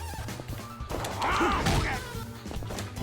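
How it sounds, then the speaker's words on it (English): A glass smashing effect in Yakuza Kiwami 2 crashes hard in the middle, a heavy impact with a ringing, shattering tail set against background game sound. "I got a cool glass smashing effect"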